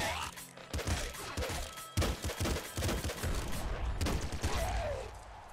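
Rapid bursts of gunfire from the video game Nuclear Throne crackle through most of the stretch, dense and loud, with a voice speaking over the shots.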